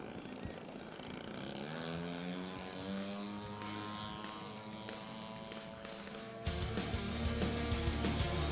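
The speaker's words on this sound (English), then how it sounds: "that's a noisy prop" Model aircraft propeller engine droning overhead at a flying field, a buzzing whine that sweeps steadily downward in pitch as the plane passes, then a louder, rougher burst near the end.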